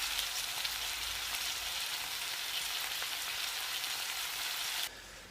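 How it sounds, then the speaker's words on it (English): Beef sizzling in a pan for Hungarian goulash, a steady, dense hiss and crackle at fairly close range that cuts off sharply near the end. "So while the beef is cooking,"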